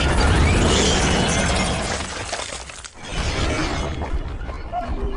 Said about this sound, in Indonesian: Kevin memecahkan kaca mobil agar bisa keluar